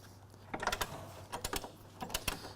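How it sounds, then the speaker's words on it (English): A metal washer drops off a Ford Mustang front suspension bolt during removal, giving several short, sharp metallic clinks and taps in quick clusters, close and fairly faint, with no talking. "Dropping the washer."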